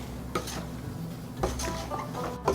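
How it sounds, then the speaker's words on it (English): A spoon scrapes and clinks against a stock pot while ingredients for golden cucumber relish are stirred over a medium-high flame, a few distinct scrapes and knocks over low background hum, no talking. "we're going to get this stirred up. Get it all incorporated."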